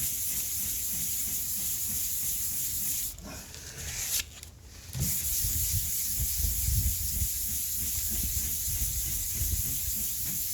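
Compressed air blasting sanding and primer dust off a pair of pants, a loud steady hiss that dips briefly midway, then resumes.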